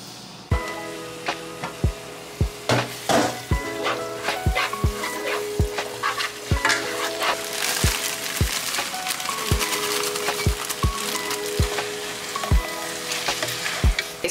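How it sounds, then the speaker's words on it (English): Ground beef sizzles and fries in a pan for a home-cooked chili, a steady crackle punctuated by regular sharp knocks of a utensil stirring against the pan, close and fairly loud. "So I'm cooking the ground beef right now"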